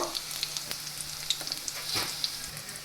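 Garlic frying in oil for a Gujarati ratlami sev shaak, a quiet, even sizzle dotted with tiny pops and crackles, plus a few faint stirring taps.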